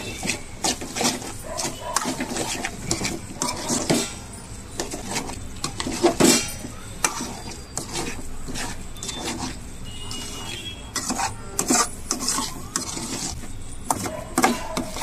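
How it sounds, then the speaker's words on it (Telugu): Fish roe fry being stirred in a pan, with busy, continuous clinks and scrapes of a metal spatula against the pan over a low frying hiss, no voices. "ఇలా మిక్స్ చేస్తూ ఉండాలి. బాగా మిక్స్ చేసుకుంటే అడుగంటకుండా శుభ్రంగా ఫ్రై అవుతుంది."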